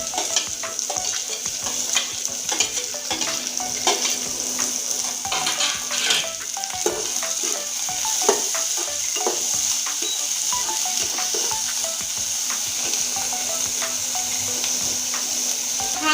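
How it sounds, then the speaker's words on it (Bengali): Chopped onion frying in hot oil for a Bengali-style aloo paratha, a steady close sizzle with scraping stirs and occasional utensil knocks throughout. "এই পেঁয়াজ কুচানোটা দিয়ে দিচ্ছি তেলে"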